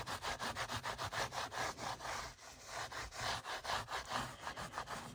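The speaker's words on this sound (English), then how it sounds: "That'll help me scrub all of this off" Chalk residue is scrubbed off quilted vinyl with a slightly toothed surface, giving quick, close, rhythmic back-and-forth rubbing strokes that rasp continuously with brief pauses and no voices.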